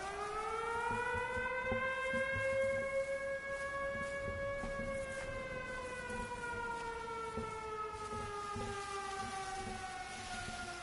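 A civil-defense-style siren wails steadily in the game Everybody's Gone To The Rapture, its tone slowly rising and falling, distant and sustained with a faint low rumble beneath.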